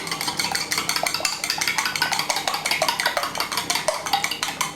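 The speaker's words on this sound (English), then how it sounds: "Give that a stir up." A utensil beats eggs and oil together in a bowl for a lemon and apple drizzle cake, a quick steady rhythm of scraping, clinking strokes heard up close without speech.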